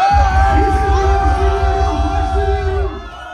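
A rap battle audience in Varna roars with loud cheering, whoops and yells, a dense sustained crowd noise that fades slightly toward the end.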